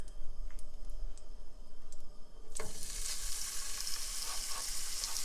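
Hamburger patties frying in a pan, a steady low background that gives way to a loud, broad sizzle as the meat hits the hot surface and keeps crackling continuously, close up.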